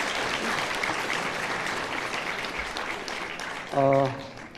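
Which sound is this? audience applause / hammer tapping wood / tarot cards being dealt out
audience applause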